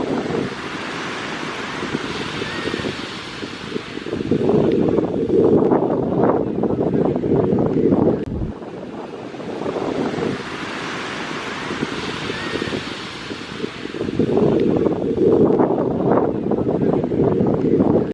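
Ocean waves break and surge at Newport Beach in two long swells, each building to a loud roar and then easing, with heavy wind buffeting the microphone throughout.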